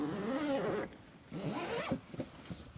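A zipper on a canvas roof-top tent cover is pulled in two quick strokes, each a raspy close-up zip, the second followed by a few small rustles.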